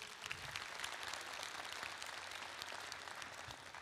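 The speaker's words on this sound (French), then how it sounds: "Applaudissements, s'il vous plaît" Audience applause fills a conference hall at TGS Toulouse 2022 during a talk with manga artist Hiro Mashima, a steady dense wash of many hands clapping throughout, loud and continuous with no talk.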